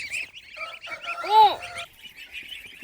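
Ducks and geese in a village poultry yard call out in short honks and a drawn-out, wavering squawk, near and moderately loud, with a few softer calls around them and no one speaking.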